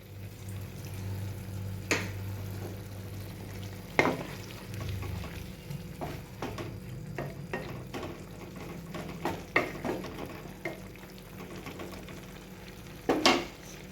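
Water poured into a pan of sizzling ground fennel spice paste for a bottle gourd curry, a frying hiss with stirring scrapes and clinks, softening and bubbling after the water goes in, close and moderately quiet.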